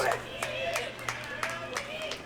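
A distant gallery of spectators clapping after a disc golf putt during the final round of the Jacksonville Open, with rhythmic applause faint under a commentator's voice.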